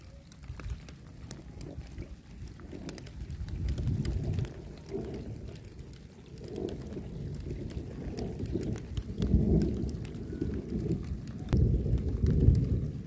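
Light drizzle pattering outdoors at a wild fishing spot while tilapia are being caught, a steady soft wash of rain with occasional low rumbles, continuous and moderately close with no talking.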